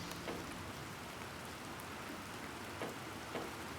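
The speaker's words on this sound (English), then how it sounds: "Oh, wait. It's raining." Steady rain falls in the survival game Planet Crafter, a dense even hiss with a few slightly louder patters of drops, heard alone at a moderate level with no talking.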